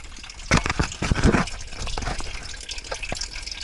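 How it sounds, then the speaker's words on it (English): Engine coolant drains from the radiator drain cock of a 2001 Chevy Camaro 3.8 liter V6 into a pan: steady close splashing and trickling with uneven drips. "I'm draining it into my pan so I can reuse the radiator for fluid, the coolant"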